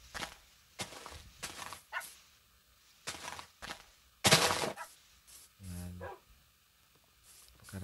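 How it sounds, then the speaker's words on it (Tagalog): Dogs barking in the video game Minecraft, a series of short, separate yaps and barks spaced irregularly, with one louder burst and a low thud, fairly close with quiet gaps between. "Karami na nating aso"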